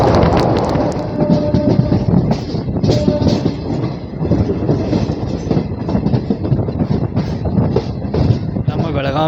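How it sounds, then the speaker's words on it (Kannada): The Belagavi–Miraj passenger train pulls into Ghataprabha railway station. Its loud, rumbling rattle of wagons and rhythmic clatter is heard close by, with wind buffeting the microphone throughout. "ನಮ್ಮ ಬೆಳಗಾವಿ ಮಿರಜ್ ಪ್ಯಾಸೆಂಜರ್ ಬಂದೈತಿ ಘಟಪ್ರಭಾ ರೈಲ್ವೆ ಸ್ಟೇಷನ್"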